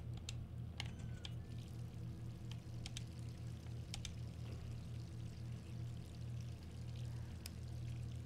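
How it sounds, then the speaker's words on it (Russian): Water running from a tap in the Resident Evil 3 Remake video game on Xbox Series S: a steady, soft rushing pour fills the whole stretch, with faint scattered clicks over it and no talk. "Опять вода, что ли, течет?"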